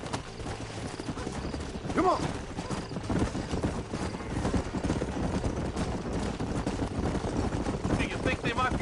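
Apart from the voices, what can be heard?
horses galloping in video game Red Dead Redemption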